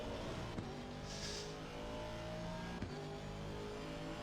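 A race car engine in a racing video game on the Zolder circuit, a steady droning engine note held fairly level with slight shifts in pitch, faint and continuous, no voices.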